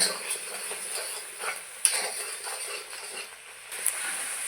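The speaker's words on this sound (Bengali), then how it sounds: "মশলা ভালোভাবে কষিয়ে নেব" Masala spices frying in a pan while being stirred, a soft sizzle with intermittent scraping and occasional metallic clinks of the spoon against the pan.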